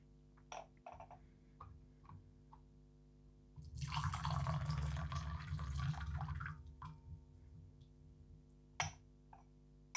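Second steep of Huoshan Huang Ya tea poured into a vessel, a soft liquid splash lasting a few seconds in the middle, set between quiet clinks and ticks in a still room.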